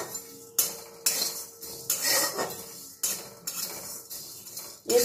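Ground spice masala is stirred in a hot kadai after the gas flame is switched off, producing a series of sharp metallic scrapes and clinks from the utensil against the pan in an irregular rhythm, close and alone.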